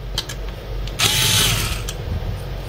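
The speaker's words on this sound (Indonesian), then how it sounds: "di sini saya pakai obeng elektrik ya, biar cepat" An electric screwdriver whirs briefly as it unscrews the screws on a car headlight housing, with a short motor burst and ratcheting clicks around it, close and fairly loud.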